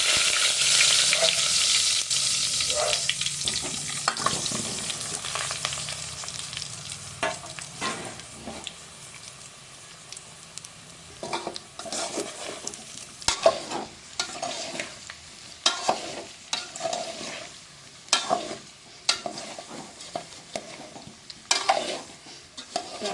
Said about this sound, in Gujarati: ઢોકળા વઘારતા વખતે આપણે તેલ થોડુંક વધારે નાખવાનું છે અને મીઠો લીમડો આપણે નાખી દઈશું